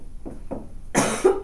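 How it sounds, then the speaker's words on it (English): A single sharp cough bursts out near and fairly loud, preceded by a couple of softer breathy throat sounds, in an indoor lecture setting. "I started coughing again Friday, and I'm not very happy about it."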